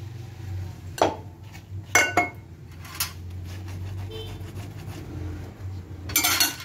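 Dishes and used cookware are washed by hand: plates and pans clatter and clink in sharp bursts, with scrubbing and rubbing between the knocks, close and fairly loud, and no talking.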